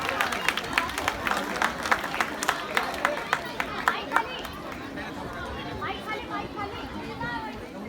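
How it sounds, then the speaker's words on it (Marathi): An audience at a dance competition prize ceremony claps in a burst of applause that thins out after a few seconds, with background chatter and a voice talking over it. "सर्वांनी टाळ्या वाजवायच्या आहेत."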